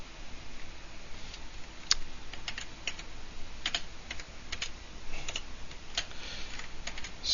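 Someone types C# code on a computer keyboard, with quiet, irregular clicks and small bursts of keystrokes close by in an otherwise still room, with no talking.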